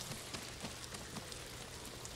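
Steady rain falls in the video game Ghost of Tsushima, a soft even patter on surfaces with scattered drop taps, quiet and continuous throughout with no talking.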